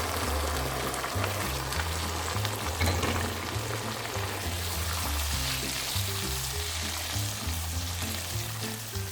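Tomatoes for chicken karahi frying in hot oil, a steady dense sizzle with a low stirring rumble running throughout, close and even in level, with no talking.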